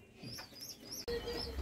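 Pigeons kept indoors during a flood give a few soft, close coos in quick succession, with light rustling around them.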